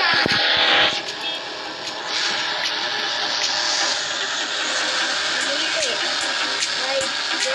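A car being driven in the video game Dude Theft Wars gives a steady, continuous engine and road noise that runs unbroken through the whole stretch, with a short louder burst near the start.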